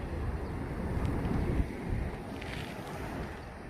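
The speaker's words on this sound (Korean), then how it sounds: "바람 많이 부는데" Strong wind gusts buffet the microphone on the East Sea coast of Gangwon-do beside a camper van, a steady low roar that swells near 1.5 seconds and carries on without voices.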